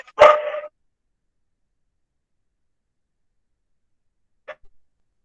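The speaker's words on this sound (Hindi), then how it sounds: "कुछ कुत्ते भौंक रहे थे" Dogs barking below an apartment: one loud, sharp bark burst right at the start, then near-silence until a faint short yip several seconds later.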